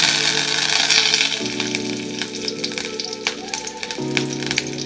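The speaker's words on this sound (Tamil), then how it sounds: "கடுகு வெடிச்சிருச்சு. கருவேப்பிலை போட்டுக்குவோம்." Curry leaves drop into hot oil where mustard seeds have already popped, giving a close, continuous sizzle and crackle with a few sharp spits over a soft tonal background.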